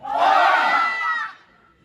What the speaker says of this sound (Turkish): Ses öbür tarafta duyuluyor. Yankı yapıyor.